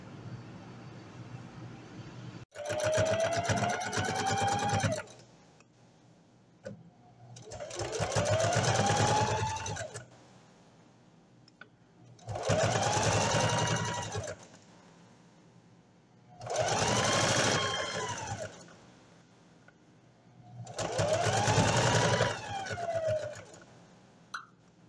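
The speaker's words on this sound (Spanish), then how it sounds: "vamos a realizar la costura de pespunte." A sewing machine topstitches a seam while making shorts and a blouse. It runs in five separate bursts of a few seconds each, loud and close, with quiet pauses between the runs.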